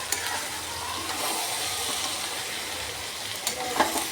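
Potatoes frying in fish oil, with cabbage cooking alongside, give off a steady close sizzle and crackle, with a few brief stirring clatters near the end and no talking.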